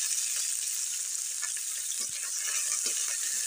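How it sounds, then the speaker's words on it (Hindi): Chopped onions fry lightly in a little oil in a pan with a constant bright, hissing sizzle and a few faint stirring taps, heard up close without talk. "प्याज को हल्के से फ्राई कर लेती हूँ।"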